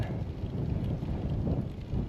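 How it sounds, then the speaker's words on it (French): Wind gusting over a mountain pass at the Col de la Croix-Morand, heard as a continuous low buffeting roar across the microphone, steady and fairly loud with no voices. "Avec un peu de vent aussi, c'est partie du jeu"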